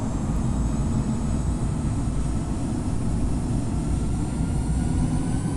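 Airbus A380 jet engines held at 50% throttle with the parking brake set in the Infinite Flight simulator, a steady, loud, broadband roar with a constant low rumble and no voices.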